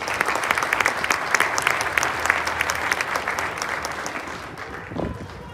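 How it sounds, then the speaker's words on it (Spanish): Loud, sustained applause from an audience at a secondary school ceremony for a new roof structure, many hands clapping densely before fading toward the end, where a brief low voice-like sound appears. "Recibámoslo con un fuerte aplauso,"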